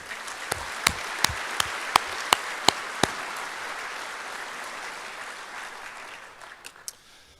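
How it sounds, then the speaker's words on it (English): Applause at a power cooperative's annual meeting: a few sharp near claps open it, then a broad audience clapping builds, holds steady and fades out, with a couple of last claps near the end. "we're going to applaud you for joining Phil in his retirement journey"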